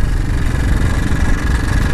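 Mikilon 250 supermoto motorcycle engine idling close by, a steady, rough low rumble with continuous even pulsing and no revving.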